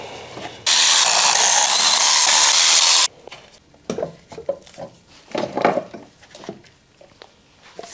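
Hand tools at work removing the intake manifold of a Mazda RX-7 during a fuel system upgrade: a loud sustained rushing burst, then scattered close metallic clicks, ratcheting and clanks.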